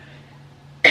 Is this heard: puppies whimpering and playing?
no